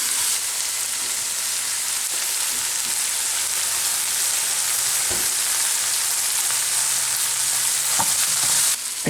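Onions with balsamic vinegar fry in a pan, giving a steady, close, bright sizzle throughout with a few soft stirring knocks and no voices.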